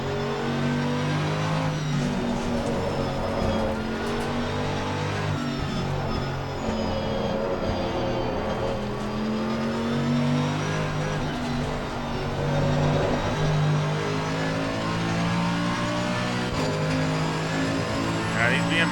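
Race car engines, BMWs among them, in an Assetto Corsa Competizione multiplayer race at Suzuka, with a steady, loud engine drone and shifting revs throughout, under a voice talking over it.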